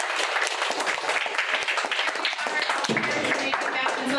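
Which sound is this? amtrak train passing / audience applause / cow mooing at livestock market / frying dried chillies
audience applause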